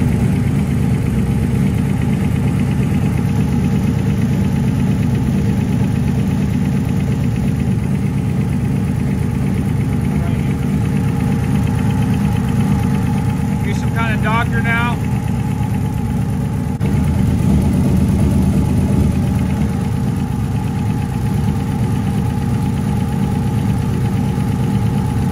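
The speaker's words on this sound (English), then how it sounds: "once they did, everything sounded good except for one rocker arm" A car engine idles steadily at close range, its low rumble carrying a faint, rapid ticking from one noisy rocker arm, with no voices.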